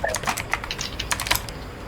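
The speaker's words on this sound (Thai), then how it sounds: "แต่คีย์บอร์ดใครมันดังทะลุจังวะ" Rapid, clattering keystrokes on a computer keyboard during a PUBG game, continuous and fairly loud, with irregular bursts of clicks and no voices.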